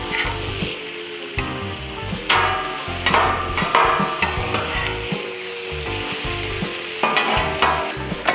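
Turkey and ham frying on a Blackstone griddle, a loud close sizzle carrying on throughout, with scraping and clanking spatula strikes against the flat-top at intervals.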